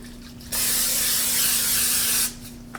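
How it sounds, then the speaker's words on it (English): A steady olive oil cooking spray hisses continuously onto a skillet for about two seconds, close and fairly loud, then stops abruptly; a faint hum runs underneath throughout. "I'm just going to spray the skillet with the extra virgin olive oil spray"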